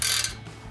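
A ratchet snugs exhaust bolts on a Ford F-150 muffler bypass, giving a short close burst of clicking that quickly fades into quiet.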